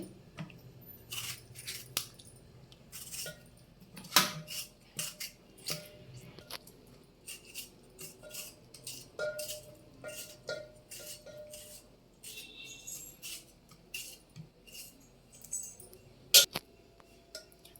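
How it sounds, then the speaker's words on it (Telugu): Knife chopping tomatoes on a cutting board, a long run of irregular crisp taps and clicks, close and fairly quiet against a near-silent background. "టమాటాలు ఇలా కట్ చేసుకోవాలి."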